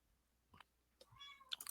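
A cat lets out a couple of faint, brief meows, the second one rising and more tonal, with a few small clicks around them and no talking.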